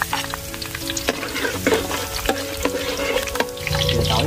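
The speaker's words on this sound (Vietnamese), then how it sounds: "Nó nóng mình cho tỏi vào." Minced garlic sizzles in hot oil in a home kitchen, a loud continuous crackle with stirring clinks from a utensil and a faint hum underneath.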